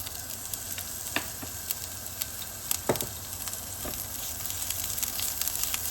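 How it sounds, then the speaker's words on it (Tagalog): Chilies sizzle steadily in hot oil in a pan for a Chinese stir-fry with eggs, a constant crackling hiss with a few sharper pops and occasional stirring scrapes, close up and with no voices. "now we're going to add a little bit of oil again, and then we're going to cook our chilies"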